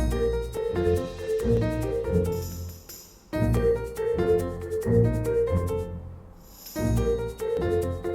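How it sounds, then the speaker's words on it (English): Piano notes run up and down in a steady, repeating arpeggio pattern, pausing briefly before the figure starts again. "we can then bring the piano in as an extra element at this point"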